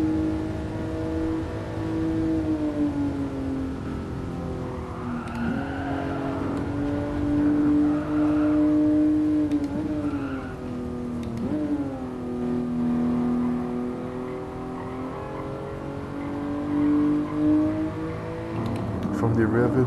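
A 1967 Toyota 2000GT in Gran Turismo Sport runs steadily in fifth gear near 200 km/h, its engine a continuous loud drone with slight pitch rises and dips throughout.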